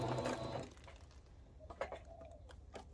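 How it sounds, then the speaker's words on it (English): A sewing machine sews a short backstitch on a fabric jar opener: a brief close burst of motor whir at the start, then quiet light clicks and handling sounds. "we'll just come down to where we started, and then we'll do our backstitch"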